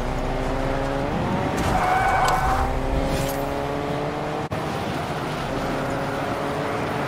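Car engine revving and tires skidding in the Fortnite video game, a loud continuous motor with shifting pitch and a screeching slide partway through, with no talk.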